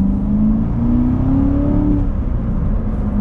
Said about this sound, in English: And the sound, you feel like you're in one of those old Corvette race cars